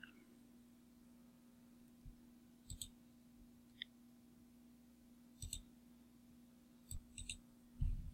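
Computer mouse clicks while dragging parts in a CAD assembly, several crisp single and double clicks spread sparsely over a quiet electrical hum.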